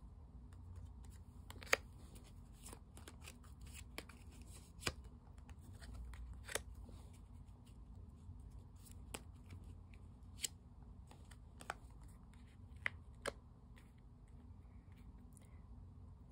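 Tarot cards are shuffled and drawn in a quiet room. Soft card rustling is broken by sharp, sparse snaps and flicks under a low steady hum, with no speech.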